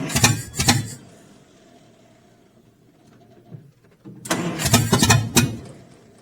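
Old Allis Chalmers engine on a LeRoi 125 CFM air compressor cranking in two loud bursts, one at the start and a longer one near the end, with a quiet gap between them.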